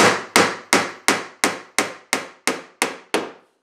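Ten evenly spaced hammer blows drive nails through plywood into pine without pre-drilling, in a steady rhythm, each a sharp close knock that quickly fades.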